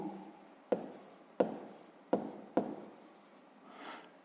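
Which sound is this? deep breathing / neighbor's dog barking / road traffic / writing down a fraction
writing down a fraction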